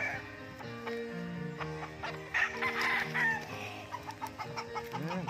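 Chickens and roosters at a gamecock farm in Tanay, Rizal cluck and crow, with many birds overlapping at a moderate distance, fairly quiet overall.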